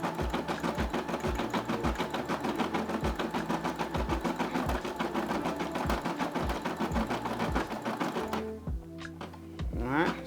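A Brother SE600 embroidery machine stitches a Tommy Hilfiger logo in fast, even rapid-fire needle strokes, a rhythmic mechanical chatter that runs steadily and close before slowing and changing pitch near the end.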